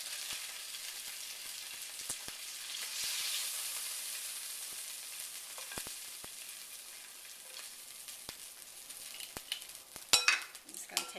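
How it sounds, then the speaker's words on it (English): A spoon stirs buffalo chicken fries through hot sauce in a bowl, giving soft wet sloshing and light scraping with scattered clicks. It stays quiet and close, growing busier near the end. "Going to take a spoon and stir them around, get them all coated"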